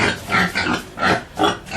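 Pigs and young three-month-old piglets on a farm grunt and oink in a run of broad, noisy bursts, close and fairly loud, with no talking over them.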